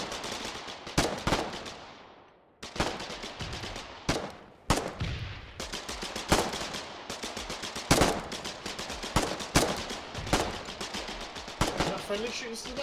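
Repeated machine-gun fire from a friendly soldier in the Foxhole war game, loud rhythmic bursts of shots with brief pauses between, close and sustained.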